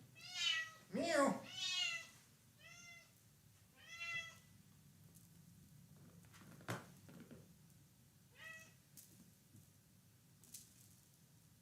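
Rosie, a house cat, lets out several close meows, a burst of two loud cries followed by a couple of softer mews, with quiet human talk and small handling noises between them.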